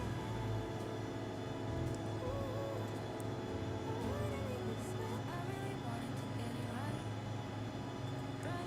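ERJ145 jet engines in the X-Plane 11 flight simulator, a steady low drone with sustained tonal hums, heard continuously with faint talk and other game sounds layered on top.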